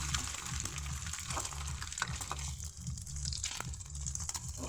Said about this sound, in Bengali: এখানে 2টো ডিম আছে। তো একটু করে ভেজে নিচ্ছি